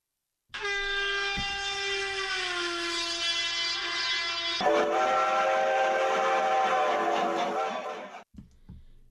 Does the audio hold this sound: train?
yes